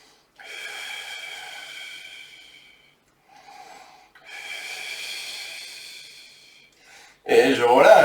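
Heavy breathing during a floor Pilates exercise with no equipment: two long, loud, hoarse breaths with a pause between them, each a few seconds long, followed by a sharp, noisy burst at the end.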